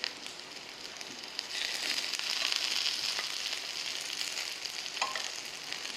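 Korean dumplings (potstickers) fry in a pan with a steady, close sizzle that swells louder and busier after the first second and a half, with no talk.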